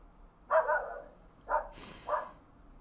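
Indoor dog letting out three separate barks, close and moderately loud, with short quiet gaps between them and a brief hiss of noise near the end.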